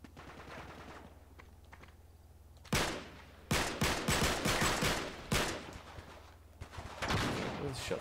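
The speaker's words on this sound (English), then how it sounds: "Where are the shots coming from?" Gunfire rattles through an Uncharted 3: Drake's Deception firefight, with scattered distant pops giving way to loud, rapid automatic bursts and single sharp shots in irregular clusters, and a voice faintly audible beneath.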